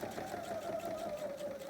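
A sewing machine runs in a short, steady whirring burst while back stitching near the end of a seam of bias binding, close and moderately quiet.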